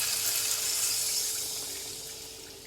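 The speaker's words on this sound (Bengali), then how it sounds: "আমার গরম জল করা হয়নি বলে আমি ঠান্ডা জলই দিলাম" Cold water pours in a steady hiss into a pan of omelette curry with potatoes and fried spices, fading gently over a few seconds.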